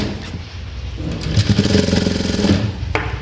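A sewing machine stitches piping onto a round belt blouse with a close, rapid mechanical whirr that speeds into a steady chattering run and then stops abruptly.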